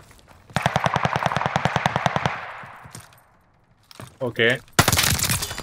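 Rapid automatic gunfire from the shooter game Call of Duty Vanguard rattles in a loud, steady burst, followed by scattered shots, a pause and more firing, with a player's voice talking over it.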